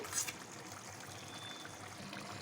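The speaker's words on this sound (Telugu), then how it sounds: "గ్లాసున్నర వాటర్ పోసుకోవాలి" Soft, quiet pouring and trickling of water into a pot of mutton curry, a brief splash at the start followed by a steady gentle stream.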